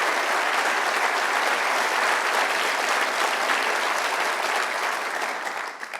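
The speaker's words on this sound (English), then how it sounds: "Thank you all for that warm welcome. When I get that much applause before I speak, it always makes me very nervous." Sustained applause from a large audience welcoming a speaker, dense and steady clapping that fills the room, tapering off slightly near the end.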